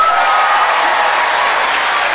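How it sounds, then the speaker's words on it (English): A theatre audience applauds to cast a vote during a stage magician's guessing game, steady loud clapping filling the whole moment without a break and with no speech over it. "You're going to vote as an audience with your applause."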